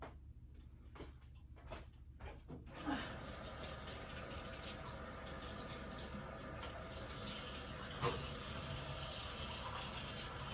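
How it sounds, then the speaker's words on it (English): A tap comes on after a few quiet knocks and then runs steadily for hands being washed beneath it, with one brief clatter near the end. "let me just give my hands a quick wash"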